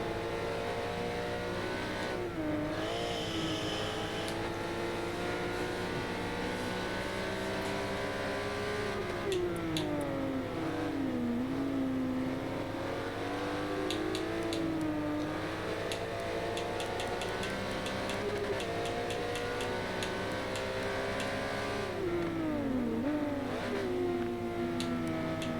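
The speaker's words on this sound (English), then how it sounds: "You can hear how he doesn't completely let off the throttle mid-corner" A Porsche Supercup race car in a racing game at the Mugello circuit holds a steady, droning engine note with the throttle kept partly open through corners, its pitch sliding up and down under continuous revving, with no talking.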